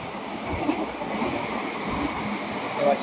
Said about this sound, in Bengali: এই মুহূর্তে একটা লোকাল ট্রেনকে আমরা পিছু ছেড়ে দিচ্ছি